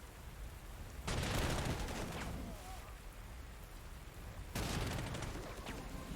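Bursts of gunfire ring out in the Panzer Corps 2 wargame, set in the 1942 Kharkov counterattack: two sharp volleys, each a rattling crackle that trails off, over a steady hiss of background ambience.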